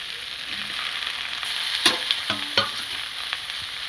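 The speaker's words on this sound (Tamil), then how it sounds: "வெண்டைக்காயை நல்லா வதக்கிட்டு தூக்கி பாருங்கள்" Okra sautéing in a pan, a constant close sizzle with a few sharper scrapes and clinks as it is stirred.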